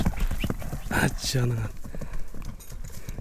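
A racehorse at a Bazar-Korgon animal market clops its hooves in a quick, uneven rhythm close by, while someone speaks briefly over it.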